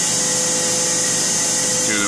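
A Mollart LD4 deep hole drilling machine bores an 11.1 mm hole in high carbon steel under high-pressure coolant, a loud, steady mechanical whine and rush with a rising squeal near the end.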